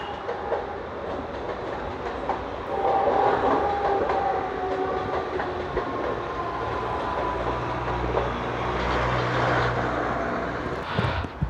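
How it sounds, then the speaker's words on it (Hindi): A passing train in India rumbles steadily with rhythmic clickety-clack of wheels on rails, growing heavier and louder toward the end, heard from nearby outdoors. "ट्रेन जा रही है, कितनी खाली खाली जा रही है देखो"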